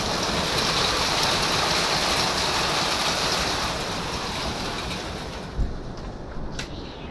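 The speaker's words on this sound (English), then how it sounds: "It's fucking raining outside." Heavy rain pours steadily outdoors just past an open doorway, a dense continuous hiss of drops striking surfaces that softens slightly toward the end, with a brief knock near the close.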